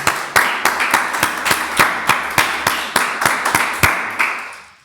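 A church congregation claps in steady rhythmic unison, a dense run of sharp, loud claps that fade off at the end with no talking over them.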